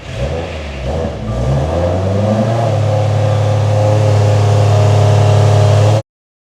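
Subaru STI making a full dyno pull at around 812 wheel horsepower, engine rising from low revs into a loud, sustained high-rpm roar that cuts off abruptly at six seconds.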